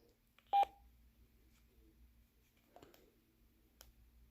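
A radio's keypad sends DTMF tones to dial a talk group: one short, clear beep near the start, followed by a few faint button clicks over near silence.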